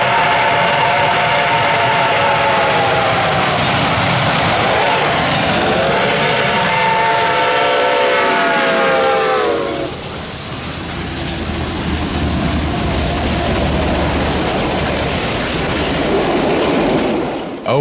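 Reading & Northern steam locomotive 425 passes close by, a loud heavy chugging roar with rising and falling whistle-like tones, then steady rolling rumble of the train cars.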